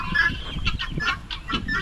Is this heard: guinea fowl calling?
yes